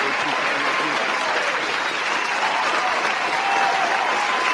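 Dense, steady crowd clapping at a live toy reveal show, loud and continuous with scattered cheers mixed in.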